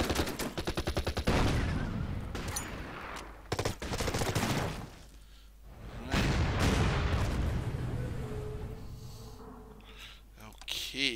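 Gunfire in the WW2 strategy video game Order of Battle, with rapid machine-gun bursts and heavy booming volleys in loud, dense stretches, while a voice talks over parts of it.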